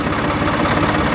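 A Ford 2600 tractor engine idles close by, a loud, low, steady chugging with a rhythmic knock and no voices.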